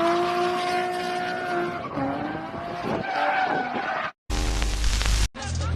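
Tyres squeal and skid loudly as a car drifts along a mountain road, with a sustained high-pitched screech and engine roar, then abrupt cuts to louder bursts of engine and tyre noise.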